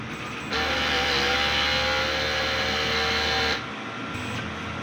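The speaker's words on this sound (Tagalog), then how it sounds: "Next po, head clean. Press lang natin yung clean." A DTF printer runs its print head cleaning cycle, a loud steady mechanical hum and pump whine lasting about three seconds before dropping back to quieter idle noise.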